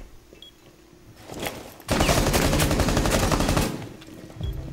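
Automatic gunfire in Rainbow Six Siege, a loud sustained burst of rapid shots lasting about two seconds after a few scattered earlier shots, with no talk over it.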